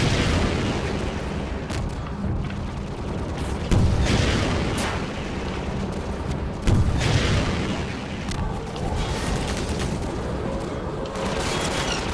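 Rockets from a rocket launcher blow up during a Half-Life 2 firefight as deep booms land every few seconds over a steady roar of combat noise, loud and dense with no speech.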